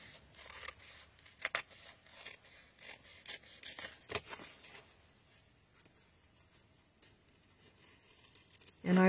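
Scissors trimming a folded paper card, a run of crisp close snips and paper rustles in the first half, quieter handling afterward and a louder burst at the very end.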